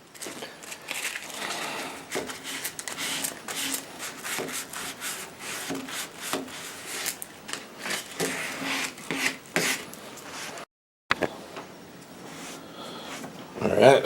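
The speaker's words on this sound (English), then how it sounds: "you always want to sand with the grain" Sandpaper rubbing along the wooden neck of an upright bass with the grain, a steady run of loud, rhythmic scratchy strokes close by, with someone talking over parts of it.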